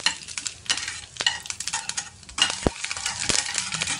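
Mustard seeds and urad dal crackle and pop in hot oil with a single dried red chilli, a dense, close sizzle dotted with sharp spluttering bursts and a few louder pops, with no talking.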